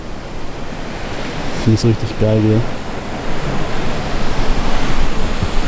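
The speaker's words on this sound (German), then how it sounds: "man kann dann richtig die großen Wellen beobachten" Large ocean waves crashing below the Uluwatu cliffs in Bali, a loud continuous roar of surf mixed with wind buffeting the microphone, with a short spoken remark partway through.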